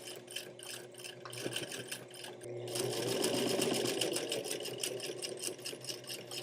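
Sewing machine stitching a seam along the edge of black denim jeans, a steady close whirring drone that grows louder and busier midway and runs continuously with no talking.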